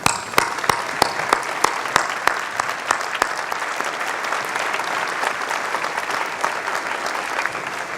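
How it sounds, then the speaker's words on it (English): A university summer commencement crowd applauds the graduates' parents: broad, sustained clapping with a few sharp, close claps standing out, gradually thinning toward the end. "if we can also applaud and give them a hand for all they've done"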